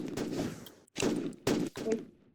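Bursts of gunfire from the Roblox shooter FPS Flick, heard as three rapid volleys separated by brief gaps, loud and close with no talk over them.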